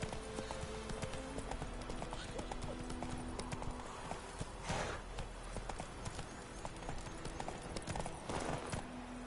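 Horse hooves clip-clop steadily at a trotting pace in The Witcher 3 video game, close and continuous across the whole stretch, with a brief faint whinny-like rise midway and no talking.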